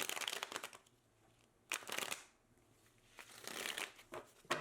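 Tarot cards are shuffled close by in three bursts of dense, papery riffling separated by quieter pauses, fairly soft overall, with no speech.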